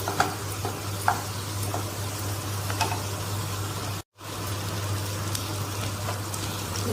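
Ginger-garlic paste frying in a pan for paneer bhurji gives a steady, close sizzle with occasional light stirring clicks, a brief dropout midway and a low constant hum beneath.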